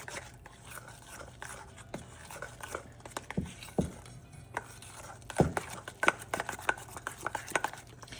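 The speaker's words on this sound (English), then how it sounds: "Stir this up really good." Gluten-free, dairy-free cookie dough is stirred in a bowl, with irregular knocks and scrapes of a spoon against the sides coming close and fairly loud, no voice.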